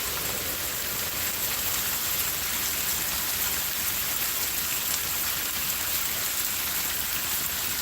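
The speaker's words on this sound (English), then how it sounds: "now it's just raining like his ass off" Heavy rain pours down outside, a dense, steady hiss of falling water that stays loud and unbroken throughout, with no voices.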